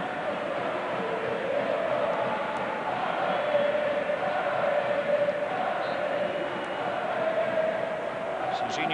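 A football stadium crowd of over 80,000 at the Inter v AC Milan derby roars in a constant, thick wash of noise, with a voice talking over it.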